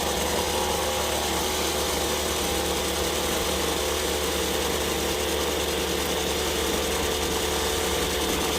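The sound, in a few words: string trimmer engine idling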